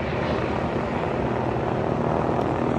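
Helicopter practicing autorotation, a continuous loud rotor and engine drone that holds steady and close throughout with no voices.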